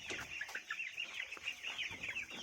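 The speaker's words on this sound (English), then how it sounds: "30 chickens" A flock of about thirty young chickens clucks continuously at close range in a rapid, busy chatter with no pauses.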